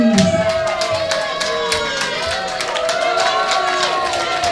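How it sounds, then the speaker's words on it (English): A crowd at a boxing match cheers and applauds a boxer's introduction, a dense, sustained roar with scattered claps heard throughout, while an announcer's voice rings over it. "Laura James getting a pretty good reception from the crowd here"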